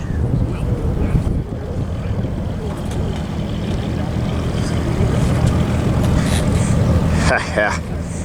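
A World War II P-40 fighter aircraft taxis at an airport, its piston engine and propeller producing a steady, close, rumbling drone buffeted by wind noise, with people talking over it.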